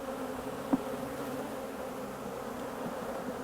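A swarm of honey bees hums in a low, even drone throughout, close and continuous, with one brief tap near the start and no voices.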